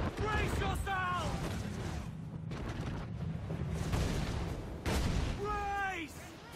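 Enemy ship firing cannons in Assassin's Creed IV Black Flag, booming blasts and rumbling at sea sounding beneath shouted crew voices, with a louder burst in the middle.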